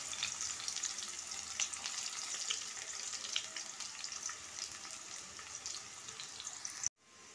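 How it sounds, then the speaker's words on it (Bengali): Three medium onions, sliced very thin, fry in hot oil until browned for a chicken curry. A steady, even hiss and sizzle runs throughout with no talking, then cuts off abruptly near the end. "পেঁয়াজটাকে আমি লাল করে ভেজে নেব"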